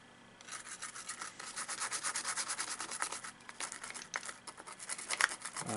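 An N64 cartridge's plastic shell being scrubbed clean with isopropyl alcohol, producing a steady rapid rubbing and brushing rhythm that builds and continues close up, with no talking.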